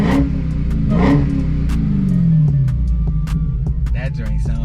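A car engine fitted with a Legmaker intake and a supercharger, on a 2020 vehicle, revs under load with a throbbing low rumble and rising whine, close and loud, while a voice talks over it.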